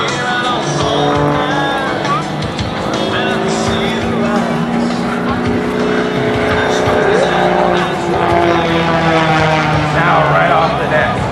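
At an airshow, an aerobatic propeller S-300 airplane roars loudly and steadily through a hammerhead turn, its engine note rising and shifting throughout. An announcer talks over it the whole time.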